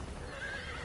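A horse in the video game Red Dead Redemption gives a short, fairly faint neigh with a wavering high whinny, set against soft background rumble and no speech.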